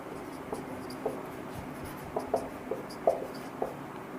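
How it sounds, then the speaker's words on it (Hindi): Pen or chalk writing out a word by hand during a maths lesson, a series of faint scratchy strokes and light taps spread over a few seconds against a steady background hiss. "देखिए सबसे पहले ये वर्ड को लिखते हैं"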